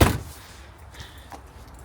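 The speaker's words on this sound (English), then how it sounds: "Should we check the sliding door out then?" A campervan's sliding door opens with a sharp mechanical thud and latch clunk at the start, followed by faint rattles and a short scrape as the door slides back.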